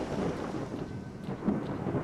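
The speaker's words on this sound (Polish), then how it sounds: "Dobrze, że jest burza." A thunderstorm rolls through the S.T.A.L.K.E.R.: Shadow of Chernobyl game world, with dense, steady rain hissing throughout and low thunder rumbling underneath.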